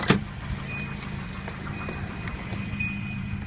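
Volvo 240 engine idling during an idle air control test, a low steady rumble close by, opening with a sharp click and carrying a faint high whine.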